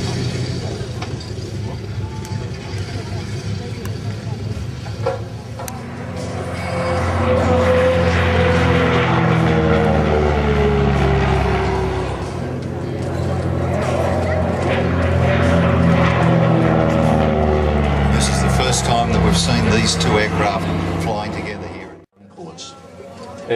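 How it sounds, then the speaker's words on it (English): Aircraft flying past in formation at an air show at Temora, a loud propeller drone that swells twice as the planes approach and pass. An announcer talks over the noise. "Here come the aircraft from your right in formation."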